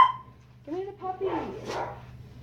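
A puppy gives a few short yips and whimpering barks at close range, with a person speaking around them.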